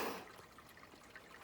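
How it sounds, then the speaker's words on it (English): Water flowing beneath a boulder on rural wooded land in Ashfield, Massachusetts, a soft steady trickle and gurgle running throughout, faint and somewhat distant, with no voices. "I'm hearing flowing water."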